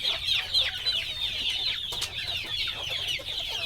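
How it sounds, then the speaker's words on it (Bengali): Native chickens cluck and squabble in a busy flock while pecking at leaves, with continuous overlapping calls close by and no talking. "দেখতে পাচ্ছেন কত সুন্দরভাবে পাতা খাচ্ছে তারা"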